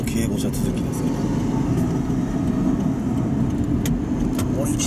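Escort cars of the prime minister's motorcade drive by in traffic, making a steady, fairly loud rumble of engines and tyres on the road, with people talking over it.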